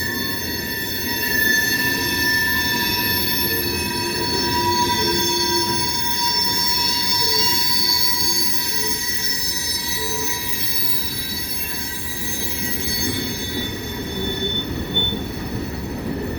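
Train wheels squeal on hot rails in steady, high-pitched metallic singing that persists throughout, loud and close, with the low rumble of the rolling cars beneath and no talk.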